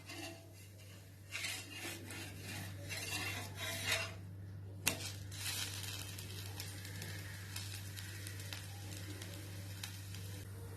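A ridge gourd dosa is flipped on a hot pan over a medium flame: a quiet scrape of the spatula and clink of metal over a soft, steady sizzle, with no voices.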